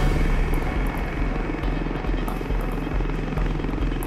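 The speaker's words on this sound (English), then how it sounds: "Lynx and Gazelle head side by side for the tree line," Lynx and Gazelle military helicopters flying side by side toward a tree line in the desert, giving a loud, steady rotor drone with a regular thudding beat throughout.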